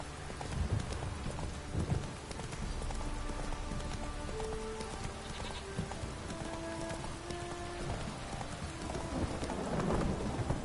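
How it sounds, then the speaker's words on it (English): Steady rain and rumbling thunder in the video game The Witcher 3 fill the whole stretch as a dense, continuous wash, with a few heavier crackles near the start and end, and faint in-game tones drifting underneath. "Don't stop raining, my arse will rot off."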